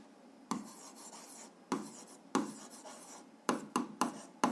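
Handwriting on a page while working an algebra exercise that graphs y = 2x + 1: short, close scratchy strokes in irregular bursts, with quiet gaps between them and no voices.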